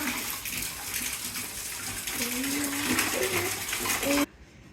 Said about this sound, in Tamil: நம்ம தண்ணி ஊற்றி இப்போ கழுவுறோம்